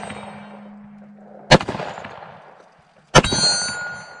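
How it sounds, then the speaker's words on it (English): Two sharp, loud reports from a Smith & Wesson M&P 10mm pistol, spaced about a second and a half apart, each followed by a brief ringing decay outdoors. "Seems to be shooting just fine."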